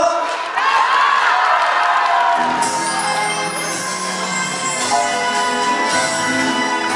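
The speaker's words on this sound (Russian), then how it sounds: "Спасибо вам огромное за ваши аплодисменты" Concert crowd at a show in Podolsk cheering, whooping and applauding loudly and continuously, with a shouted voice early on and music and noise swelling partway through.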